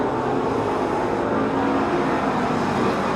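Hobby stock race cars roar steadily around the dirt oval at Silver Dollar during a fall nationals main event, a dense continuous engine drone with no breaks.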